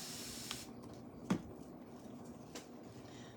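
A spray bottle gives a short squirt of distilled water while ink is being worked onto a pumpkin doormat, a single soft hiss standing out from a quiet, hissy room with a fainter puff on either side.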